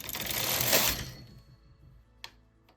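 A domestic knitting machine carriage sweeps across a row in one close, rushing swoosh, then goes quiet apart from a single sharp click.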